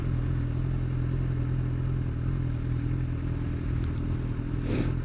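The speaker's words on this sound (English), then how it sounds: "And there's a bike behind me." A motorcycle rides close behind on the road, its engine a steady, loud drone that holds for several seconds, with a brief hiss near the end.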